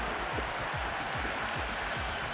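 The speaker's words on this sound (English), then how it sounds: "It's evident and ever so audible that the crowd is at near bursting point at today's play." Stadium crowd in the cricket video game Cricket 26 applauding and cheering in a dense, steady roar, with a commentator's voice faintly underneath.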